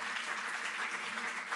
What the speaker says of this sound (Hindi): जोरदार तालियों से आप सम्मानित करें।